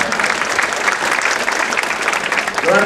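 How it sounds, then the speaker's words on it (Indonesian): Audience applause at an end-of-year Buddhist reflection talk, a dense, steady clapping from a crowd filling the whole moment at even loudness. "Tepuk tangan buat saya lagi Banggara."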